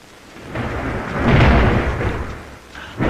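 Thunder rolls in a deep, swelling rumble ahead of coming rain near the sea, building to a broad peak and fading before a fresh low surge at the end, with no voices.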